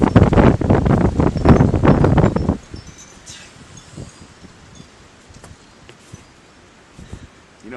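Outdoor location wind buffets the microphone with heavy rumbling noise and rustling leaves for the first couple of seconds, then drops to a quiet background broken by occasional soft rustles and knocks.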